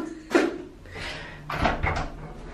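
A door is opened indoors, with a few short wooden knocks and creaking scrapes spaced over a couple of seconds, heard close and moderately loud without talking.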